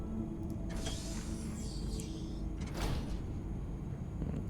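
Sliding door in the space game Starfield opens with a soft mechanical whoosh and hiss, heard over a constant ambient hum of game background sound, with no voices.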